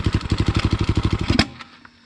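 A Yamaha TTR 250 motorcycle engine runs with rapid, loud, regular firing pulses for about a second and a half, then cuts off abruptly, leaving a quiet tail.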